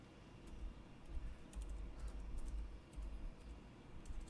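Quick uneven clatter of a computer keyboard during website building, soft close key taps in bursts with brief pauses and no speech.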